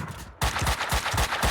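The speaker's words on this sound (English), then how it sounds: "Shotguns suck in this game." Rapid gunfire in the video game Max Payne 2, a sudden burst of several sharp, loud shots in quick succession that follows a short quieter stretch.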